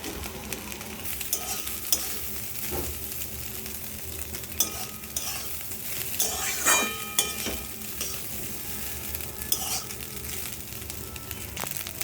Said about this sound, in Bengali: এবার আমি এর মধ্যে ভাতগুলো দিয়ে দেবো।